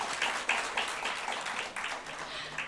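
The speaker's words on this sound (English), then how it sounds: "a big round of applause for him" Round of applause from a campus colloquium audience, moderate, somewhat uneven clapping with distinct individual claps standing out over a few seconds.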